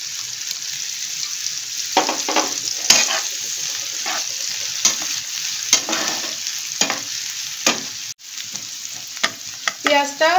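Onions frying in a pan with black salt for sweet corn raita, a steady close sizzle broken by repeated scraping and stirring strokes of a spatula.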